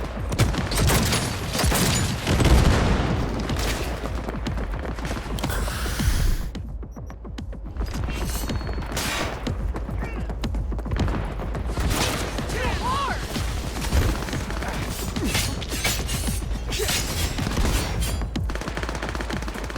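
Sustained gunfire in Cyberpunk 2077, with loud, repeated automatic bursts and booming impacts over a low hum, a brief lull midway, and voices shouting now and then.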